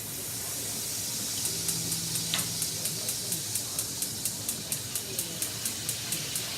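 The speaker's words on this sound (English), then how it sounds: "I'm gonna add first a little wine to deglaze" Wine hits a hot pan to deglaze it, giving a loud steady hiss and sizzle that fills the space, with a regular faint ticking running through the bubbling.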